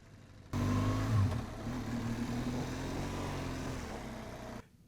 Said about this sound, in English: So I approach, I flip on that throttle